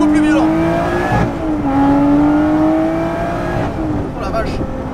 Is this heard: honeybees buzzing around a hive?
no